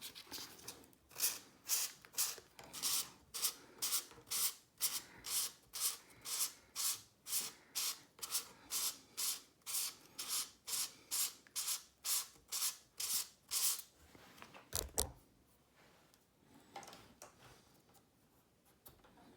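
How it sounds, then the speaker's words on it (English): Steady back-and-forth sanding strokes on a carbon fishing rod quiver tip, about thirty in a regular rhythm, close and fairly loud, ending with a few scattered scrapes and a knock. "Just give it a little bit more of a sanding"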